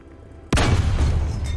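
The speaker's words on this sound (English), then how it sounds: "It's a tank cannon." A single heavy tank cannon blast in the War Thunder game hits suddenly out of near-quiet, loud and close, with a booming rumble that sustains and decays over the next second.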